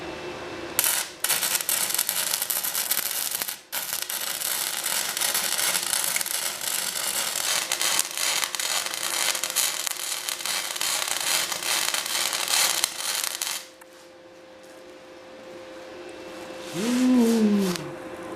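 A mini bike frame for a budget enduro build is being welded: a loud, steady crackling buzz runs for roughly twelve seconds, then cuts off, leaving a quiet room with a short voiced exclamation near the end.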